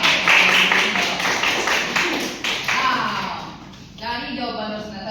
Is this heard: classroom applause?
yes